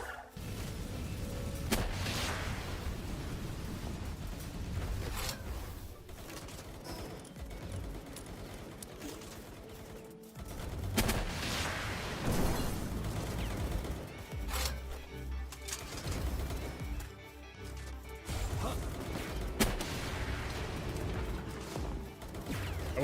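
Explosions and rapid gunfire fill the Palworld video game battle, with dense overlapping blasts and bursts of shots that roar loudly and almost without a break.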